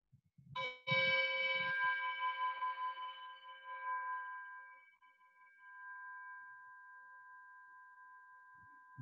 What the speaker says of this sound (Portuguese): deixe que o som do sino seja um sinal para a gente relaxar no momento presente